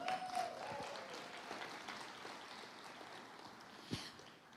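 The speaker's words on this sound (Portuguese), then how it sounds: "Dê uma salva de palmas para Marli." A church congregation applauds as a woman is called up to the front, a faint, distant wash of many hands clapping that thins out toward the end.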